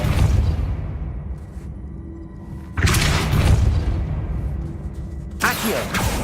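Depulso spell effects in the video game Hogwarts Legacy: two sudden loud whooshing bursts with a booming, crackling release, separated by a quieter ambient stretch, with no talk over them.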